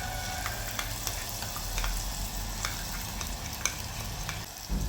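Masala for gatte ki sabzi fries in a pan, giving a steady close sizzle broken by light scraping and clinking as it is stirred.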